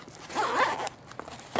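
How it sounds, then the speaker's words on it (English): The bottom zipper on a Maxpedition Sitka Gearslinger bag pulled down in one steady, close ripping run, followed by a few handling clicks and rustles, with no voices. "So this bottom zipper comes down to there."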